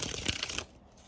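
Oracle cards being shuffled by hand, a dense papery riffling and rustling that runs for about half a second, then stops abruptly, leaving quiet room tone.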